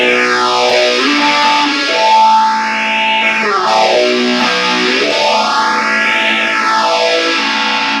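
Heavily distorted electric guitar sustains through an MXR Phase 95 phaser pedal, its tone sweeping slowly up and down in broad, repeating whooshes, loud and up close.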